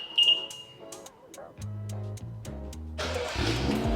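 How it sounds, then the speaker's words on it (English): A BMW X6 engine cranks and catches via remote start after a short electronic chirp, settling into a steady low idle before a louder rush of revving fills the end. "And then the car runs, everything works exactly the same as it would normally."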